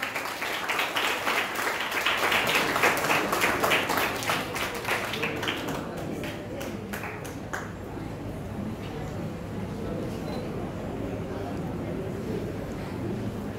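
Audience applause for student prize winners at a school foundation day celebration, a dense wash of clapping that swells early and then thins to a softer, steadier patter, with some voices mixed in.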